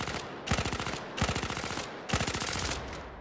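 Three bursts of rapid automatic gunfire in the VR shooter Zero Caliber: Reloaded, each lasting under a second with a dense rattling rhythm, separated by short pauses.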